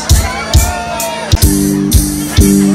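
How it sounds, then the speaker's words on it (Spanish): Women at a wedding celebration in La Purisima, Queretaro let out high, loud shouts and whoops in several repeated bursts over a steady, droning band sound. "son ese grito de las mujeres"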